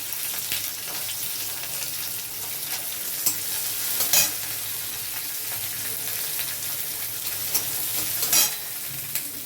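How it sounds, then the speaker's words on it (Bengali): Garlic, ginger and spices fry in about a spoonful of oil in a kadai, giving a continuous close sizzle broken by a few sharper scrapes and clinks as the mixture is stirred. "কড়াইতে 1 চামচ মতো তেল দিয়ে এবারে আমি সব মশলাগুলো ভেজে নেব।"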